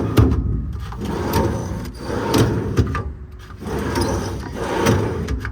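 Ball-bearing drawers in a 2016 Kenworth T370 service truck compartment slide open and shut repeatedly, giving rolling rumbles and light knocks. The sound is close and fairly loud, with no talking.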